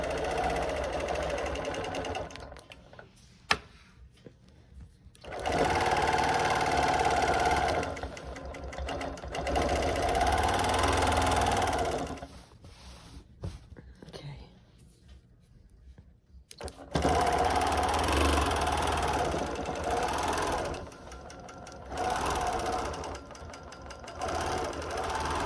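Sewing machine quilting boxes around pinwheel blocks, stitching in steady bursts of rapid mechanical running with short pauses between passes, close and clear.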